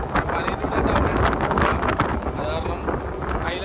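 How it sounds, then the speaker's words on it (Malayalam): Strong wind buffeting the microphone aboard a fishing boat at sea in very bad weather, a loud, continuous roaring rumble with gusting swells and faint water noise. "നല്ല കാറ്റുണ്ട്."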